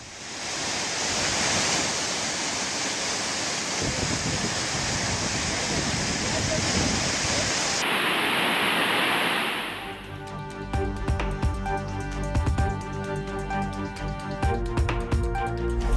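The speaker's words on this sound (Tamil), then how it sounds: "மேற்கு தொடர்ச்சி மலை வனப்பகுதியில் பெய்து வரும் தொடர் மழையால் குற்றால அருவிகளில் நீர்வரத்து அதிகரிப்பு" Heavy post-rain flow at the Courtallam waterfalls in the Western Ghats forest: a loud, steady, broadband roar of rushing water fills the first ten seconds before music takes over.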